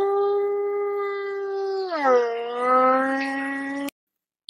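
A jackal howls after eating, one long wailing cry that holds steady and then bends downward before cutting off sharply. It sounds clear and close with little behind it.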